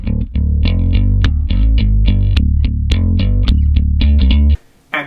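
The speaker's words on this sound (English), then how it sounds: "Through input 3, I've got some bass going on. I've got the Dark Glass B7K model with some compression and some EQ." Bass guitar through an Axe-Fx III running the Darkglass B7K model with compression and EQ plays a run of punchy, gritty, sustained notes, loud and upfront, before stopping abruptly near the end.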